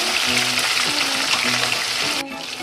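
Salmon frying in a pan with butter and garlic, a steady close sizzle running throughout, with a brief dip in the hiss near the end.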